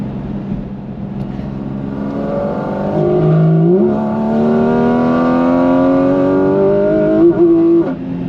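A Porsche 718 Cayman GT4RS engine revs up through rising harmonics, drops briefly at a gear shift, then climbs again in a second long pull before another quick shift near the end, loud and close.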